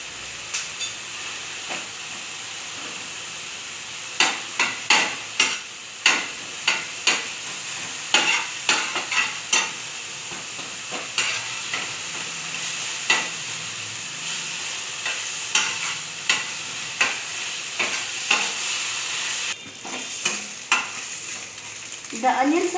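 Onions fry in a pan with ginger garlic paste, a steady sizzle and hiss underneath repeated sharp scraping and clacking strokes of a spoon stirring, close and fairly loud, with no talking.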